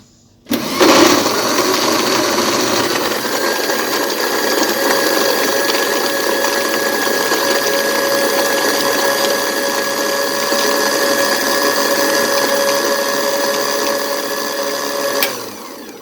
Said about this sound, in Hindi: अब इसको फिर से ब्लेंड करेंगे।